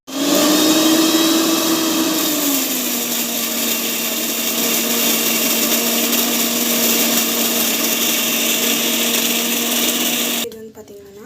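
A mixer grinder whirs steadily at close range, blending mint chutney with a strong, continuous motor hum that dips slightly in pitch early on, then cuts off near the end.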